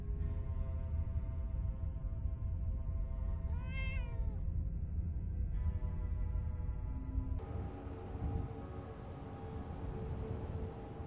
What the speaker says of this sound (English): They even have the only black cat in the Commonwealth, called, well, Blackie.